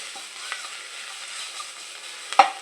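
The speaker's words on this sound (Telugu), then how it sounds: "పచ్చళ్ళ నువ్వులు మళ్ళీ వేయించాలి" Sesame seeds dry-roasting in a pan for a mint, tomato and coriander chutney give a faint, steady crackle with a few soft scraping clicks from stirring, ending in one sharper scrape.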